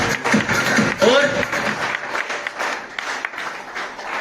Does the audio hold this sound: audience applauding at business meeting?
yes